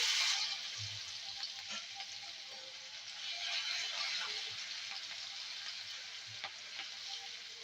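Garlic paste sizzles in hot oil with sugar and nigella seeds in a pan, a steady bright hiss with a few soft stirring knocks, close and alone with no talk.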